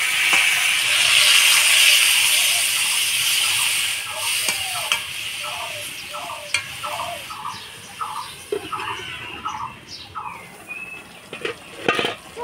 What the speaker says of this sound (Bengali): সজনা ডাঁটা আলু হলুদ লবণ দিয়ে ভালো করে নাড়াচাড়া করে নিলাম